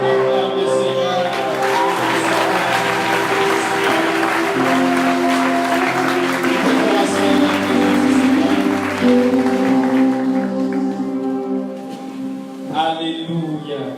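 A church congregation applauding in praise: sustained dense clapping with crowd voices and tonal background music, fading out near the end, with a voice rising briefly over it.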